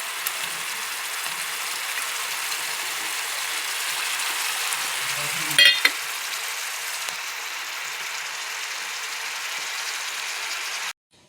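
Small chela fish fry in a pan for chorchori, giving off a steady, even hiss that holds for about eleven seconds. A brief clatter sounds midway, and the hiss cuts off abruptly near the end.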